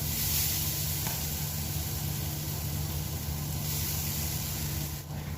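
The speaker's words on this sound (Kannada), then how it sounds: "ಇವಾಗ ಅದೇ ಫ್ರೈ ಪ್ಯಾನಿಗೆ ತೆಂಗಿನ ತುರಿಯನ್ನು ಸೇರಿಸ್ತಿದ್ದೇನೆ" Grated coconut dry-roasting in a fry pan for a Mangalore-style crab curry, giving a steady, even sizzle and hiss that continues without pause and with no talking.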